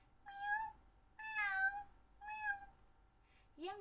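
A voice imitates a cat meowing three times in drawn-out rising and falling tones, clear and close, followed by the start of a spoken word.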